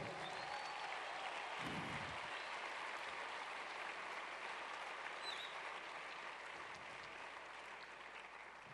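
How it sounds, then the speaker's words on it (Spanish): Steady applause from a church congregation for visiting Colombian pastors, a continuous even wash of many hands clapping that fades slightly toward the end. "Come on, give them a big round of applause."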